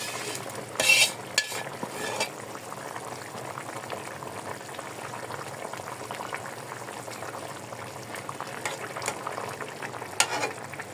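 Bottle gourd leaves, small kachki fish, boiled potatoes and stalks simmer in a pot, a steady low bubbling with a few knocks and swishes from stirring, close by and with no talking.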